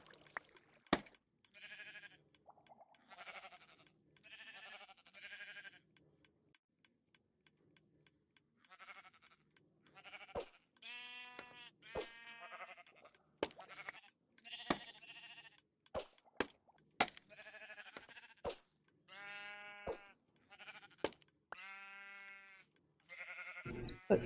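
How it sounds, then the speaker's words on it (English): Sheep in a Minecraft-style video game bleat and are sheared in a quiet pen, with repeated short bleats, soft plops and clicks scattered through a sparse, game-like soundscape. "We can hear them being sheared."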